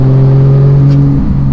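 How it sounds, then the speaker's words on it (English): Loud, steady exhaust drone from a Porsche 911 GT3 under way, a strong low tone that shifts pitch slightly near the end, heard from inside the car with no talking. "The exhaust makes some good noises as well."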